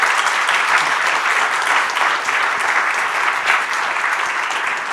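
Sustained audience applause for a conference panel on financial instruments, a dense, even wash of many hands clapping at full volume for the whole stretch, with no pauses.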